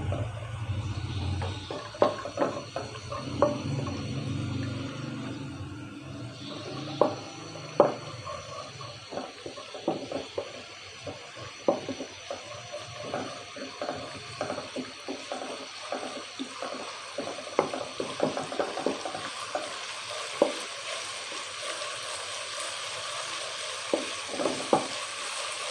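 Garlic frying in a pan for chicken and vegetable fried rice, a steady sizzle with repeated clicks and scrapes of a utensil stirring throughout.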